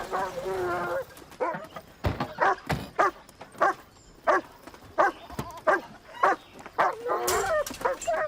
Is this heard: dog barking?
yes